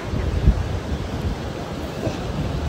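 Sea waves washing onto a beach, a steady broadband surf roar mixed with wind noise buffeting the microphone, loud and continuous throughout with a brief thump near the start.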